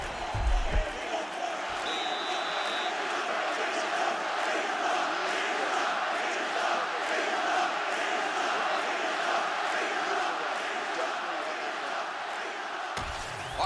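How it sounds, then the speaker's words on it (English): A video game arena crowd in UFC 6 roars in a broad, sustained wash of cheering that holds steady for over ten seconds between rounds of a mixed martial arts fight, with a couple of sharp thumps at the start and end. "the crowd voicing its appreciation after that crazy sequence in the previous round"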